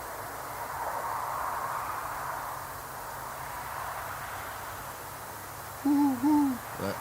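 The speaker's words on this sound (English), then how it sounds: "I heard an owl earlier out there." An owl hoots outside at night, two or three short calls near the end over a quiet hiss of background noise, fairly distinct but not close.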